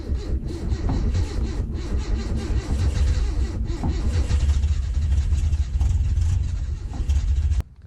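A Datsun ute engine struggles to start on a freezing morning, cranking and labouring in a steady, loud, continuous churn close by for several seconds before cutting off abruptly at the end.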